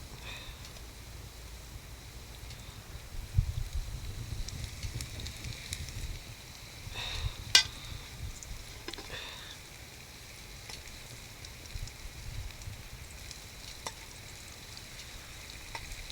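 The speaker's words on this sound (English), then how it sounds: "There's the sizzle." Steady sizzling of food frying over a campfire, with crackling throughout and one sharp pop partway through. No voices.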